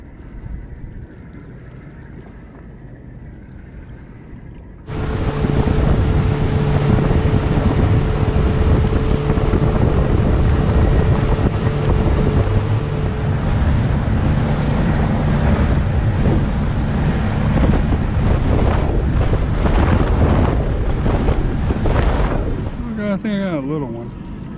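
Small fishing boat under way on open sea in wind: after a quieter gusty stretch, the motor kicks in loudly with a steady droning roar, heavy wind buffeting and water rush continuing for some twenty seconds before easing.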